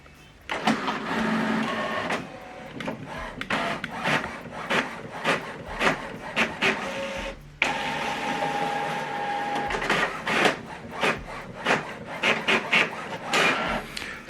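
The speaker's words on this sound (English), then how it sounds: "So this document now is printing." An HP OfficeJet printer runs at close range, printing double-sided, its mechanism whirring and clacking in repeated bursts as pages feed through, with a brief pause midway.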